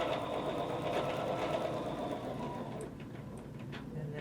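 Sewing machine quilting ruler-work blocks, running steadily along a stitch line with a continuous, close mechanical whir that eases slightly toward the end; no talking.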